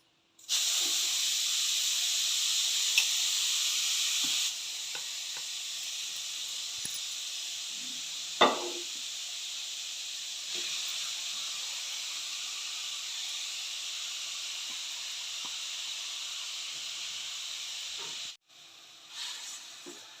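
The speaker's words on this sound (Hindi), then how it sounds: "मैंने गैस पर कढ़ाई रखी हूँ, गैस ऑन किया हुआ है, धीमी आंच पर रखा हुआ है।" A gas stove burner on a low flame under a kadai gives a steady, even hiss that runs almost unbroken for the whole stretch, moderately loud and close, with a brief faint knock partway through.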